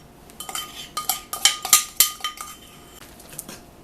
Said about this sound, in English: we're going to mix this into our sourdough oatmeal mixture from last night